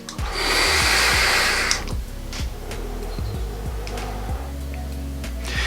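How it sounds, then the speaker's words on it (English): A long, strong breath draws through a Steam Crave Ragnar RDTA with a mesh coil fired at 60 watts. A steady airy hiss runs for about two seconds, followed by quieter breathing and faint clicks. "I'm vaping at 60 watts."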